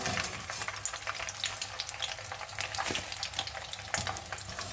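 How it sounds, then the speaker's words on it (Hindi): Cauliflower florets for Gobi Manchurian frying in oil until golden brown, a dense, even crackling sizzle with small pops throughout, close and fairly soft. "गोभी फ्राई हो रही है और इसे सिर्फ हमने गोल्डन ब्राउन होने तक फ्राई करना है"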